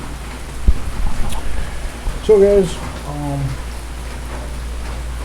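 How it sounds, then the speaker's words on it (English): Heavy rain falls at night in Bohol, around 3:30 in the morning, as a steady background wash while someone speaks briefly over it. "and it's raining."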